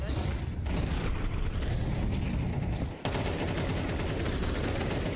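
Gunfire in a Counter-Strike match, a dense continuous roar of rapid shots and blasts, loud and close, filling the whole stretch with a brief cut near the middle.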